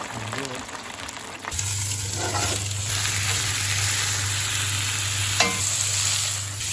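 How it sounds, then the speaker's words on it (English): Blanched fries dropped into hot oil next to a wood-fired oven, a loud dense frying hiss that surges in after a brief scrape and holds steady with a low hum beneath, heard close with no speech. "I just got my blanched fries. I'm going to drop them in the oil."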